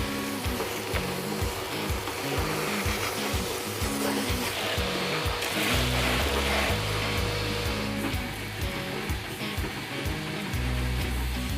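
Steady whirring suction from a vacuum cleaner clearing mouse droppings out of a car, running loud and close for the whole stretch, with the motor pitch shifting partway through as the nozzle moves.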